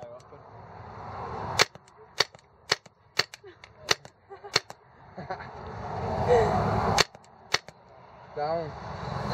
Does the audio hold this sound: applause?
no